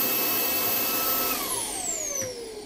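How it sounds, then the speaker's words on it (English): A Makita 40V cordless stick vacuum with a motorised brush head runs steadily and close by, its high motor whine gliding downward in pitch partway through, with no talking. "Much nicer Vacs, available in 40 volt and 18 volt."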